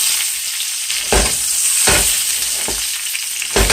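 Veal sizzles and fries steadily in garlic and herb butter in a pan, with a few louder bursts of stirring or shifting as pieces are moved around.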